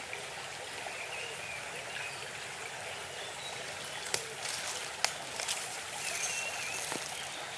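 A river flows through an ancient forest, a steady broad rush of water with a few sharp drips and knocks over a faint hum in the background.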